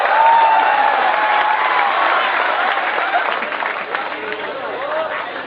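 A large crowd at an inspirational talk on MPSC and UPSC exam preparation breaks into loud, sustained clapping mixed with cheers and whoops, steady and dense throughout, easing slightly near the end.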